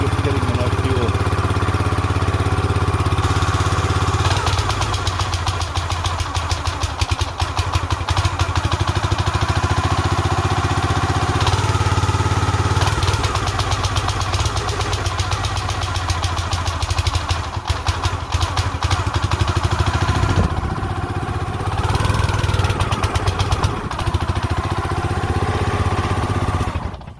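A small engine on a Black Diamond 25-ton log splitter, suspected of running short of fuel, idles and then revs unevenly, its loud steady drone rising and sagging with rough, clattering surges throughout.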